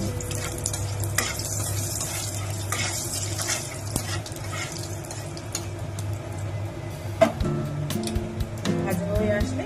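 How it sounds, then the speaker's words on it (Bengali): Bay leaf and whole cumin are tempered in hot oil after frying cauliflower, with a steady close sizzle, frequent stirring scrapes and clinks of a utensil against the pan, and a voice heard over it. "এবার আমি ফোড়ন দেবো, তেজপাতা আর গোটা জিরে।"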